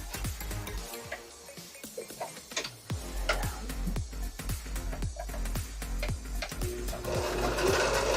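A sewing machine stitches fabric in rapid mechanical bursts that start, pause and start again, with a rhythmic ticking chatter and a low motor hum, while people talk faintly in the background.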